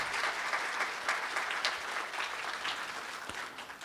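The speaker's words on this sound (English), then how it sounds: "let's give them a round of applause." An auditorium audience at a library writers' award ceremony breaks into applause: sustained, dense clapping from many hands at fairly close range, with a few sharper claps standing out, and no one speaking over it.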